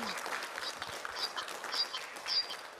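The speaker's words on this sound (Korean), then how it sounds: "다시 한번 뜨거운 박수" Participants at a village welfare plan declaration ceremony of a community welfare college applaud in a dense, sustained wash of clapping that swells in waves, with faint chirpy squeaks on top.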